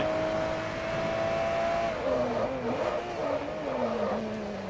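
A race car engine in Forza Motorsport 3 on the Silverstone GP circuit holds a steady high tone, then drops and climbs through several gear changes, a loud continuous racing sound.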